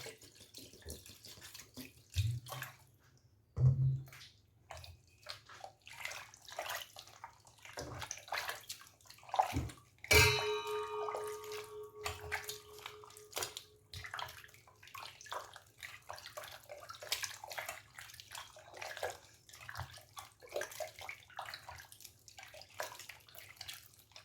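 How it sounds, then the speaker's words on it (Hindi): Water poured into a bowl of butter skimmed from milk cream to wash it, a splashing, running stream with gurgles and a sharp clatter partway through, fairly faint and alone without talk. "फिर से इसके अंदर हम पानी डालेंगे।"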